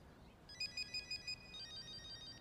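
A cell phone rings during a live stage play, sounding a short repeating electronic tone pattern, faint and somewhat distant, over a steady room hum.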